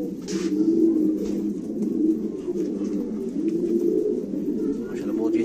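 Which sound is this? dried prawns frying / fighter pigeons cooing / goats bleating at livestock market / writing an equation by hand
fighter pigeons cooing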